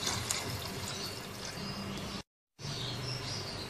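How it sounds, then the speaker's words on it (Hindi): Water poured into a cooking pot of mutton with salt and ginger-garlic paste, a steady broadband rush and trickle that runs continuously, breaks off briefly, then resumes, with faint chirps in the background. "3 कप इसमें पानी के शामिल कर देने हैं।"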